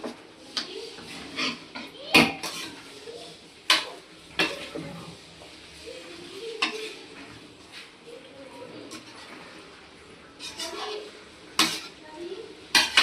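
Pepper chicken masala stirred in an iron kadai, with a spoon scraping and knocking against the pan in irregular bursts, close by, while someone talks over it.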